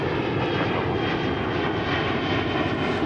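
A fixed-wing airliner's engines roaring at DFW Airport, a loud, steady, broadband rumble holding constant for the whole stretch with no talk.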